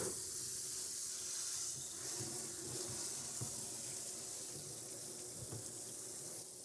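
Water sprays steadily from a hose pushed through a water valve into a goat's water container, a continuous close hiss with slight gurgling fluctuations, no voices.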